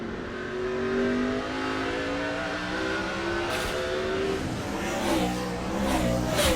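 NASCAR stock cars roar around the Sonoma road course during the 2006 Dodge Save Mart 350, a sustained engine drone with rising and falling pitch as cars accelerate and pass.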